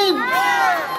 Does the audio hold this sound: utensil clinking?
no